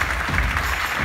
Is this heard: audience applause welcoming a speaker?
yes